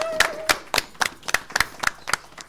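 A small group clapping in a sparse, distinct rhythm of about nine separate claps, close and fairly loud, as thanks to a departing civic-service volunteer.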